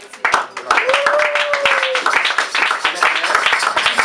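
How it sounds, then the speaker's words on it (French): A church congregation applauds loudly in rhythmic clapping, with a voice singing or calling out over the claps. "Nous acclamons très fort."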